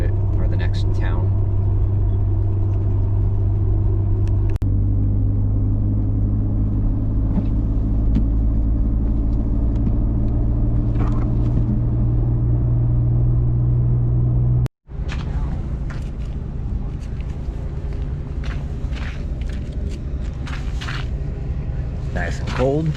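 A truck towing a trailer down a snowy road at night, a loud steady engine and road rumble heard from inside the cab, with people talking over it and a brief dropout partway through.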